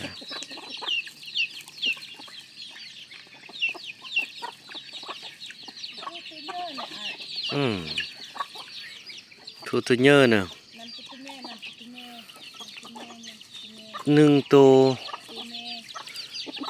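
Chickens clucking in a village yard among the Mlabri forest people, a busy mix of short clucks and a few louder squawking calls, with a voice talking quietly over them.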